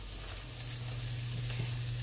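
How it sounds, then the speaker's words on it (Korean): Anchovies and chili peppers stir-fry in a pan with a steady, close hiss and sizzle, and a low hum sits underneath throughout. "고추를 넣고 볶는 거는 이제 멸치에 매운맛이 좀 들어가라고 이렇게 하고요."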